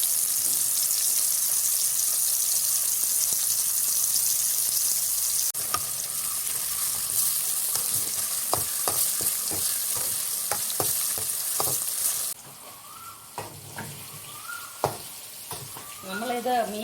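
Fish pieces for a Kerala-style fish pickle sizzle in hot oil, first as a steady hiss, then broken by a run of sharp scraping and clacking stirs as the frying quiets.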